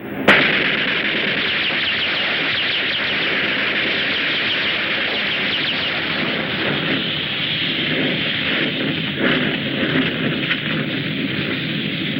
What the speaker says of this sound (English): Squad, posts! Open fire!